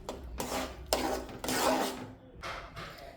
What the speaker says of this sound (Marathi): ह्याला सारखं हलवत राहायचंय म्हणजे ह्या मिश्रणाच्या गाठी होणार नाहीत.